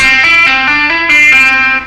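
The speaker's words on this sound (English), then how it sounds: "another legato lick that I use involves some sliding with your first finger" A distorted electric guitar plays a smooth, connected run of notes with slides and hammer-ons, loud and close, with no talking.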